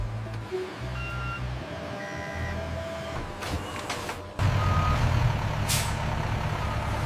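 A departing truck at a papaya factory sounds steady reversing beeps over a low engine rumble, with sharp hisses of air brakes and a louder engine surge near the end.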